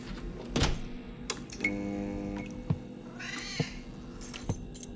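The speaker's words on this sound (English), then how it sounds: "Hi, kitty." A cat in the video game The Operator meows a few times in short, clear calls, set against a quiet room tone with some soft clunks and a brief higher rustle.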